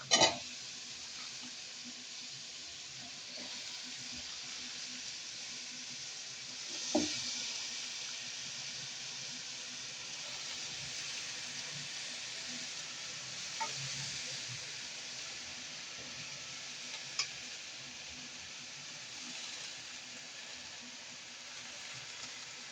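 Malabar spinach sizzling as it fries in a pan, a steady broad hiss running throughout, with a few soft scrapes and knocks as it is stirred, close and even in level.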